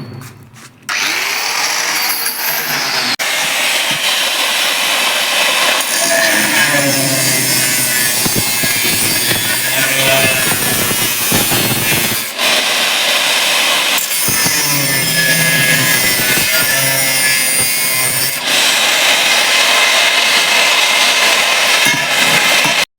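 A power drill grinds steadily and loudly, drilling holes in a metal pipe for railing, running almost continuously with only brief dips in pitch and pressure.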